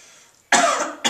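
Two bursts of harsh coughing from one person, close by: a long rough cough followed by a short second one after a moment of near silence.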